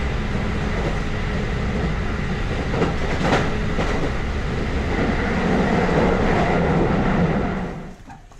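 Steady rumble and rattle from inside a moving Mizushima Railway train in Japan, wheels clacking softly on the rails, the noise easing off at the very end.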